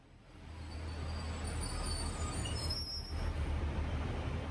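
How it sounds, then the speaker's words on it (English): A Class 142 Pacer diesel train from the 1980s rumbles into a station platform, a loud, steady low roar of engine and wheels with faint high squeals from the rails, running continuously without any talk. "Behind me is a Class 142 Pacer train"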